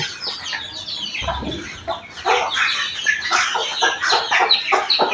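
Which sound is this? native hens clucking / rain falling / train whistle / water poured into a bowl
native hens clucking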